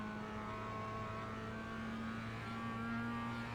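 A Mazda MX-5 on a fixed setup at Summit Point in iRacing drones with a steady, sustained engine tone, held at constant revs as the simulated car runs a lap, with no talking.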